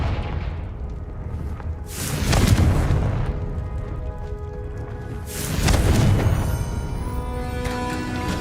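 Spell blast from the Confringo curse in Hogwarts Legacy, two loud booming explosions a few seconds apart, each with a rushing burst that rolls off over a steady game ambience.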